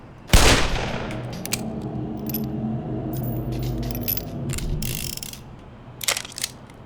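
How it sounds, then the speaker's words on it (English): Weapon reload in the Black Mesa game: a sharp metallic clack opens a run of mechanical clicks and ratcheting over a low steady hum, then two quick snaps near the end. "I'll show you what it's like to reload this really quick"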